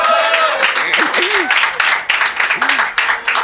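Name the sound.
audience applause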